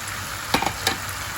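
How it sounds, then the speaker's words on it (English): Fish pieces sizzle in hot oil in a pot, a steady close frying hiss punctuated by two short scraping clinks of a utensil. "So I started adding in my fish"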